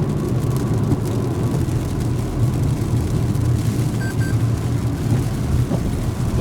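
Inside a Toyota RAV4 slowing on cruise control, a steady low road and engine rumble with tyre noise fills the cabin, fairly loud and unchanging throughout.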